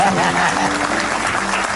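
Studio audience at an Indonesian television talk show breaking into applause, a brief dense burst of clapping with crowd noise, loud and close throughout.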